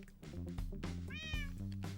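A Minecraft cat meows once, faint and close, a short rising-falling call over a soft background of low game music.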